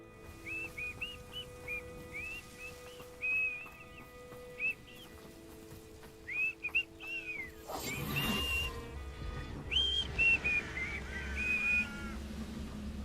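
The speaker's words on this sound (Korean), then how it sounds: "여기 휘파람 잘 부르시네요." Characters whistle a tune in the Hogwarts Legacy video game, short rising and falling whistled phrases repeating at moderate level over ambient game sound, followed by a louder burst of noise and more whistling near the end.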